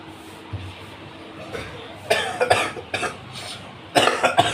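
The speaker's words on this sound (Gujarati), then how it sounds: "શરદી ઉધરસ" Coughing from someone with a cold, a few loud close coughs in two bursts separated by quiet pauses, with no talking.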